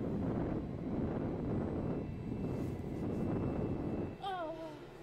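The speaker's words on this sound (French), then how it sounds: "j'avais pas vu qu'il y avait du vent à cet endroit-là" Wind in a video game blows as a loud, steady low roar that fills the clip, then eases near the end as a brief voice-like warble rises over it.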